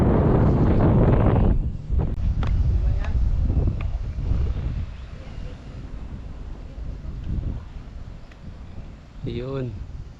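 Wind buffets the microphone at Rainbow 89 Ecopark campsite in Tanay on a morning, loud and rumbling at first and then easing into a steady blustery roar, with brief voices underneath.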